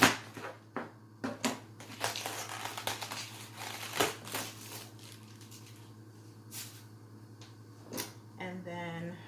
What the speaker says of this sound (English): I cut the bottom core off